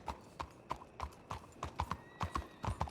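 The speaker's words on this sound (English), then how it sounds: "Look at my new horse!" Horse hooves clip-clop in a roleplay video game, a steady run of sharp, fairly close hoofbeats in an uneven trotting rhythm, fairly quiet, with no talk over them.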